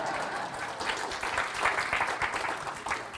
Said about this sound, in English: I certainly like clapping for that.